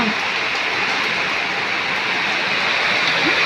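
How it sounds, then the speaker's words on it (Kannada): Heavy rain and rainwater running in front of a house during a prolonged downpour, a dense, steady rushing wash that stays loud and even from start to finish. "ಮಳೆ ಬಿಟ್ಟೇ ಇಲ್ಲ ನೋಡಿ ನೀರು ಹರಿತಾ ಇದೆ ನಮ್ಮ ಮನೆ ಮುಂದೆ"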